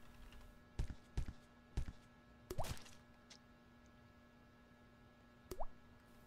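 Water drips in a quiet, enclosed space: a handful of separate drops plop at uneven intervals, some close together, each one short and clear over a steady low hum.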